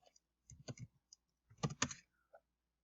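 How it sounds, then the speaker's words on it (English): Short bursts of computer keyboard typing: two quick clusters of key clicks, close and clear, separated by a pause, with a faint tap near the end and no talk. "So if I type in earthquake,"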